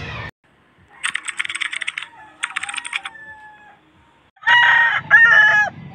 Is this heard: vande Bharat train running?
no